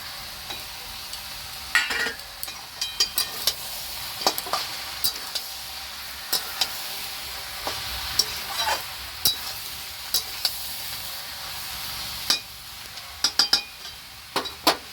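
Pumpkin and mixed vegetables fry with a steady sizzle in a pan for Bengali labra, while a spoon stirs them in frequent scraping clinks and taps against the metal, close and clear, with no talking.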